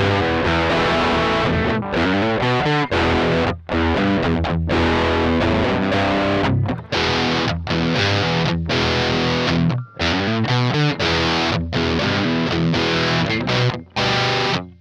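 Overdriven electric guitar played through an AMT Legend amp with cabinet emulation, a distorted, sustained chordal riff with short rhythmic breaks, loud and direct with no talk.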